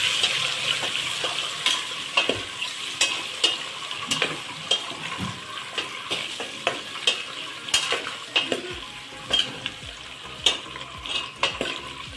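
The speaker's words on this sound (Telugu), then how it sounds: "ఎగ్స్ని ఇందులో వేసేసి ఫ్రై చేద్దాం." Eggs fry until crispy in a pan for egg biryani, with a steady close sizzle and frequent scraping stirs and clinks of a utensil against the pan throughout.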